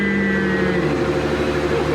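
A 2020 Jeep Gladiator Rubicon engine, rebuilt after a wreck, runs at a steady idle close by, a continuous even drone with slight tonal shifts.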